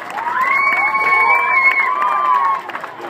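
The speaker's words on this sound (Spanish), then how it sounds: "¡Fuerte aplauso!" Loud crowd cheering and applause with shouting voices at a school book fair event in Tecate, rising for about two and a half seconds, then tapering off.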